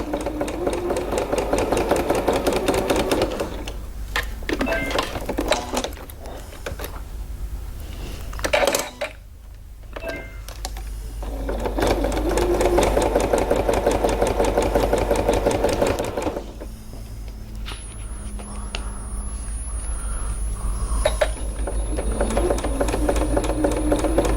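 Sewing machine with a skinny walking foot stitching a fabric face mask, running loud and close in long steady bursts with short stops and a near-silent gap around the middle.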